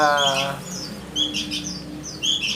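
Long-tailed shrike (cendet) nestlings give repeated high, thin chirps in short clustered bursts, close and clear over a soft background hum, with no talking.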